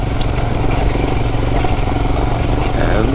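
A Royal Enfield Himalayan motorcycle carries a 60 kg pillion on a dirt ride, its engine thrumming loud and steady throughout with a rough, continuous mechanical drone.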